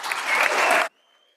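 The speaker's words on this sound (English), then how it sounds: "So let's give them a big round of applause." A dense burst of applause rings through a state House legislative chamber, loud and continuous for almost a second before it cuts off sharply, leaving a faint hum.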